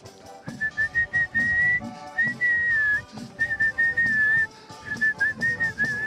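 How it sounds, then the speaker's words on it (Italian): A whistle sounds in a series of short and longer shrill blasts with brief gaps, bright and fairly close over a low murmur of background activity at the La Favata local festival. "Fischietto."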